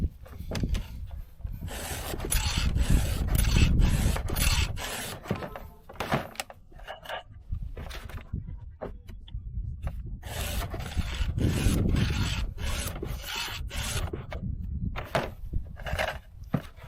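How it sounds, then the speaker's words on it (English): Repeated rasping strokes of a file sharpening the teeth of a dull chainsaw, steady back-and-forth rhythm in bursts with short pauses, close up. "My chainsaw is pretty dull, so I'm going to start with 4 swipes here"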